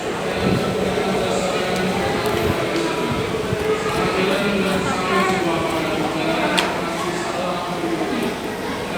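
A train rolls into an Indonesian railway station, a steady, loud rumble of wheels and carriages with faint clanks throughout.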